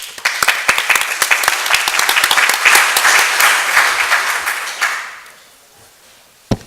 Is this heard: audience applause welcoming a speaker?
yes